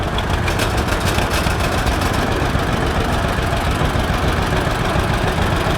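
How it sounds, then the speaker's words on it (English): A John Deere 520 antique tractor with power steering runs at a steady, loud idle, its low engine rumble continuous and close throughout, at an outdoor antique tractor parade. "Here comes the John Deere 520. It has power steering"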